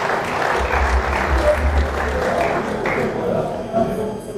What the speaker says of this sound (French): Est-ce qu'on peut acclamer le chef de l'État?